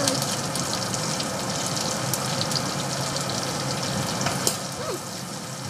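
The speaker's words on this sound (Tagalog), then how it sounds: "Ilalagay na natin si onion." Onion frying in hot fat in a pan, a steady close sizzle with faint crackles and stirring, continuous throughout with no talk.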